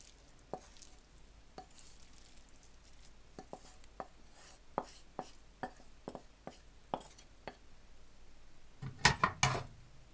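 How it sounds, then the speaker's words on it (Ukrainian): Green onions being chopped with a knife on a board for a lean mushroom and bean salad, steady irregular cuts close by, ending in a quick flurry of rapid chops. "Тепер я ще цибульки сюди зеленої. Накришила."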